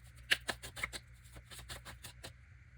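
Darkwood Tarot cards are shuffled quietly up close, giving a soft, papery riffle of rapid little flicks and taps at low volume.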